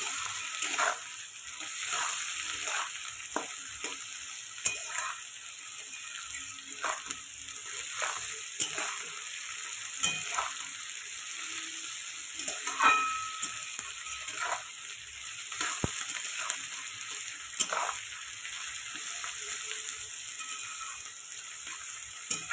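Spices and capsicum fry in a pan for fried rice, a low continuous sizzle broken by frequent spoon scrapes and taps against the pan, close by and steady throughout.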